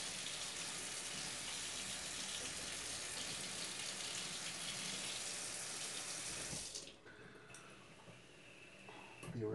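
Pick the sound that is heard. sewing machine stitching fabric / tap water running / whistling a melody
tap water running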